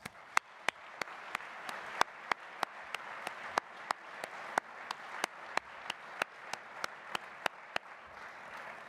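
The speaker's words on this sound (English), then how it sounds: "Please join me in a round of applause" An audience at a track and field coaches' convention opening session claps for staff and volunteers, a thin run of evenly spaced sharp claps, faint and distant, sounding more like one or a few people than a full crowd.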